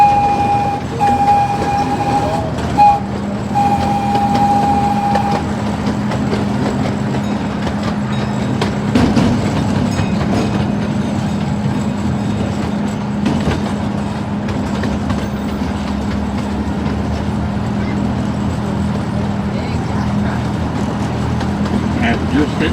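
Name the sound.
miniature train ride at transportation museum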